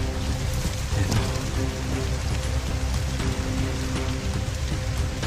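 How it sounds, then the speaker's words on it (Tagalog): Heavy rain pouring down steadily and loudly, a dense continuous hiss of drops hammering surfaces with a low rumble beneath, no voices. "Umulan, lakas ng ulan dito."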